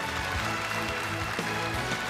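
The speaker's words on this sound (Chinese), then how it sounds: "掌声欢送一下张毅" Dense, even applause from an audience at a televised Yue opera competition final and awards ceremony sends off a departing contestant, a steady wash of many hands clapping at moderate volume without a break.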